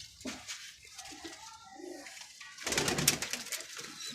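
Pigeons kept in pairs at a home pigeon loft give soft, low coos early on, followed by a louder burst of rustling, splash-like noise.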